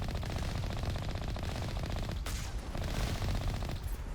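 Rapid automatic gunfire from turrets in the video game Mass Effect Legendary Edition, a dense continuous stream of shots with a brief break midway, loud and close with no talk.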